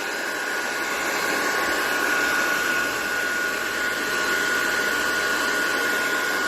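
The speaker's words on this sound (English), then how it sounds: "I'm just going to turn it on cool and about medium. And we're just going to blow dry this out." Blow dryer running on a cool, medium setting to dry out a battery-operated Allegro soap dispenser, giving a steady loud airy whoosh with a faint whine, continuous and close for the whole stretch.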